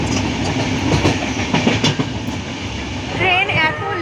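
A late-running train rumbles along the rails on the way to New Jalpaiguri in cold, windy weather: a steady, close, loud clatter of wheels with a few clicks and a brief squealing whine near the end.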